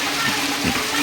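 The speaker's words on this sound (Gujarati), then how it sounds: "જુઓ ફરી પાછી ભાઈ વરસાદ આવી રહ્યો છે ખતરનાક." Heavy rain pours down in Asjol village, a dense, loud and steady wash of falling water that fills the moment without a pause.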